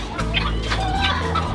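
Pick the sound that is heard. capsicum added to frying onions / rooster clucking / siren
rooster clucking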